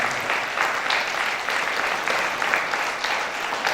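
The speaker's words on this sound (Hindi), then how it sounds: "मैं चाहता हूं कि हम जोरदार ताली बजाएं" Sustained applause from a church congregation at a Sunday healing and deliverance service, dense, steady clapping filling the room without a break for several seconds.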